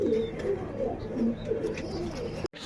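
Breeder pigeons coo in low, throaty, repeated calls at close range over a steady background murmur, and a short sharp break comes near the end.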